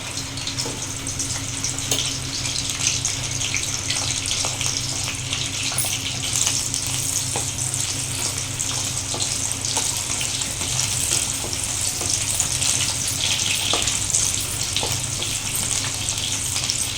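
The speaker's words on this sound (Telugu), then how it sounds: "కొంచెం చిట్పట్ ఉంటాయి కదా, మీద పడకుండా ఆయిల్" Green chilies fry in hot oil for a tomato-chili chutney, giving a loud continuous crackling sizzle with scattered pops and splutters throughout, close and without speech.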